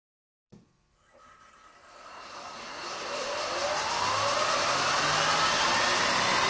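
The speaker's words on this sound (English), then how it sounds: "this time the wheels and tires are also going to come up to a spin" An electric car's wheels and tires spin up in fourth gear on a test stand, a sudden start followed by a broadband rushing whir that steadily builds in loudness over several seconds, heard alone at moderate distance.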